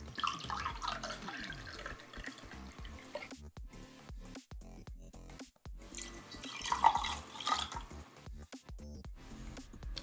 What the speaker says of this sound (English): take your white grapefruit juice and pour 3 ounces of it into the glass